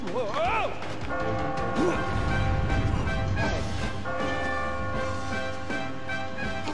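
Bells chime amid a busy, layered soundscape of music and effects in the video game Catherine, while a voice talks over the top.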